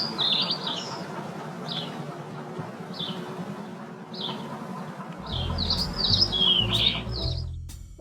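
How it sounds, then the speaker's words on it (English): Birds chirp in short, high repeated bursts, slowed to three-quarter speed, spaced about a second apart and then clustering toward the end, over a low hum with a deeper rumbling tone joining halfway through. "Immediately following the pleasant sounds of clips of birds"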